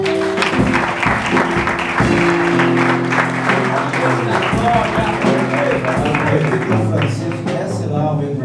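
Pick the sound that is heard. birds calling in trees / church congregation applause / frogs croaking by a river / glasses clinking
church congregation applause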